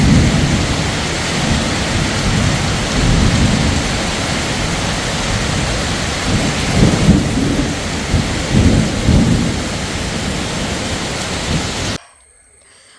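Heavy rain pours in a loud, dense roar during a thunderstorm, with deep rumbling thunder swelling through the middle; a voice speaks briefly before the sound cuts off.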